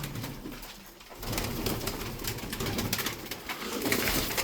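Pigeons coo steadily in soft, low, rolling calls, several birds close together, with a faint rustle of wings and no voices.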